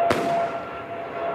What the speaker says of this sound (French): Donc ça, c'est une fusée détonnante. Donc elle nous sert très souvent pour effaroucher les oiseaux.